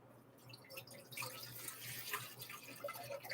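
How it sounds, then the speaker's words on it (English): Distilled water is poured into a container for boiling, a faint, close trickle and splash with scattered drips, no voices. "I'm going to get some water in there."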